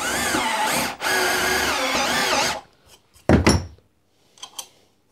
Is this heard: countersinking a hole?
yes